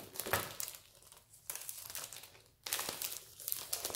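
Thin plastic pouch from a monthly craft kit crinkling and tearing open close up, in three bursts of rustling with brief quieter gaps between them and no voices.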